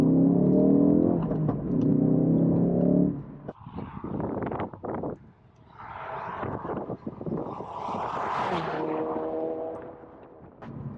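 A Ford Focus RS Edition revving hard on a country B road and shifting gear just past 5,000 RPM, loud engine drone rising, cutting out for the change, then climbing again close by the cabin.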